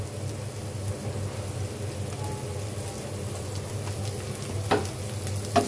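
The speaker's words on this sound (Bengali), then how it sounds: "এই পর্যায়ে দিয়ে দেবো তেল।" Oil hitting a hot pan while dried taki fish is cooked, giving a steady, close sizzling hiss throughout, with a couple of sharp clicks and crackles near the end.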